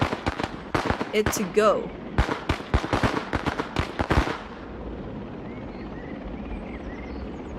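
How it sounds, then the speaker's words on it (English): Firecrackers tossed in a riot video game crack off in a rapid, irregular string of sharp, loud bangs for about four seconds, then give way to a low rumbling ambience, with a voice talking briefly at the start. "Just go and throw all the firecrackers that we can."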